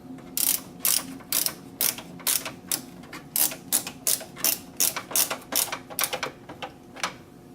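Screws are being driven to secure two EVGA GTX 670 reference graphics cards in a PC. It comes through as a loud, close, rhythmic series of ratcheting clicks in about a dozen quick bursts, with no speech.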